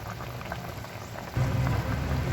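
Paksiw na galunggong, a vinegar fish stew, bubbles at a steady boil in a pot, a close, continuous low simmer that grows a little louder partway through, with no talking.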